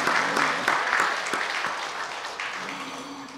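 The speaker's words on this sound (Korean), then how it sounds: "우리 하나님 앞에 감사하면서 영광의 박수 부탁합니다" A church congregation applauds the choir, conductor and accompanist after a hymn, a steady burst of clapping close by that gradually tapers off.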